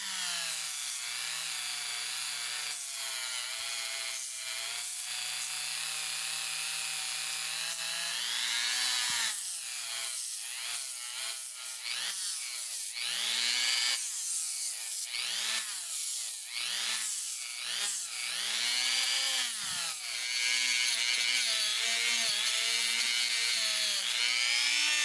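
Threads on parts of a Millers Falls No. 5 tool holder are scrubbed clean, with the wood wrapped in aluminum can. The result is a steady, close rasping and rubbing with shifting pitch that runs for the whole stretch, with no talk.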